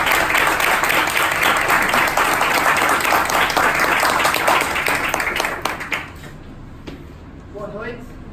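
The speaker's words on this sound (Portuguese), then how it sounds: "Vamos recebê-lo com a salva de palmas." An audience at an evening motivational talk gives a long, dense round of applause to welcome the speaker, the clapping steady and full for about six seconds, then dying away into a few scattered claps and a quieter room.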